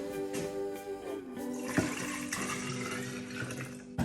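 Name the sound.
pouring bowls of water into lemonade container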